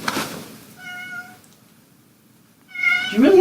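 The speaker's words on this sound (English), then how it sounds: "Do you really have to meow right when I'm recording?" A house cat meows twice, a clear tonal call near the start and a louder, rising meow near the end, close to the microphone with quiet room gaps between.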